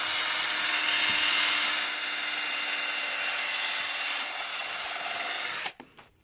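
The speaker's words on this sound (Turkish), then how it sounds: "Görüyorsunuz ince ince deldik." A power drill bores thin pilot holes into wood for a triangular-roof wooden curtain rod holder, whirring loud and steady at close range for several seconds before it abruptly cuts off.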